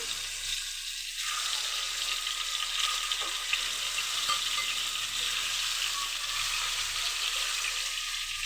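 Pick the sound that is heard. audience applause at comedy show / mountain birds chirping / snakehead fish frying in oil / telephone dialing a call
snakehead fish frying in oil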